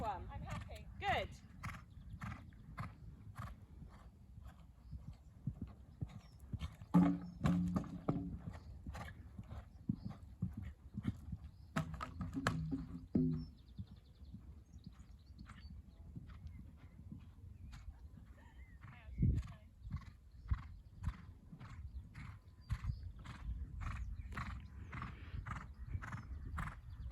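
A horse cantering around a showjumping course gives repeated hoof clip-clops in a steady three-beat rhythm, with an occasional snort or whinny, while people talk over it at moderate distance.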